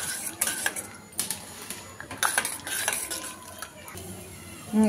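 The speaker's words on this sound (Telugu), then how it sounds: "ఒక హాఫ్ కప్పు వేరుశనగ గుడ్లు వేసుకోవాలి. ఇవి బాగా వేయించుకోవాలి" Half a cup of peanuts frying in peanut oil for a tamarind rice tempering, with metal spoon scraping and clattering against the pan over a faint sizzle, close and busy throughout.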